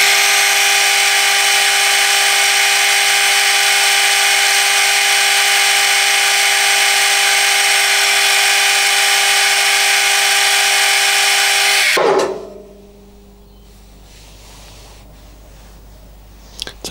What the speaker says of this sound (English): Might just hit it with some Scotch-Brite, so I can polish that up a bit.